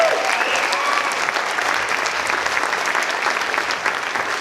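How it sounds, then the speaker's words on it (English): An audience applauds after a children's karate performance at an evening show, a dense, steady wash of clapping throughout, with a faint voice briefly audible early on. "Let's give them another big round of applause."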